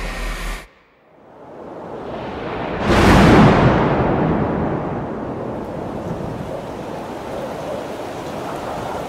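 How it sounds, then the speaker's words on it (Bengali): Stormy gusting wind followed by a loud, sudden thunderclap that rolls into a sustained roar of heavy rain, all dense and close with no voices. "ঝোড়ো হাওয়ার মধ্যে বিশাল জোরে একটা বাজ পড়ার সঙ্গে সঙ্গে শুরু হয়ে গেল অঝোরে বৃষ্টি।"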